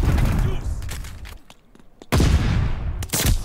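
Gunfire in the video game Call of Duty: Vanguard, with bursts of rapid shots and sharp cracks, a brief lull near the middle, then loud volleys returning. Speech-like sound mixes in around the shots.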